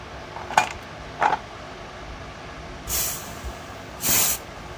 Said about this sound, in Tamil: கொஞ்சம் ஓப்பன் பண்ணிவிட்டு ஏரை வந்து ரிலீஸ் பண்ணிக்கோங்க